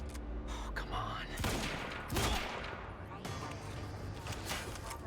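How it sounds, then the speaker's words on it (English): Gunfire in the video game Quantum Break, bursts of rapid shots crackling in waves over a busy game soundscape, with a player talking over the action. "No, don't keep shooting."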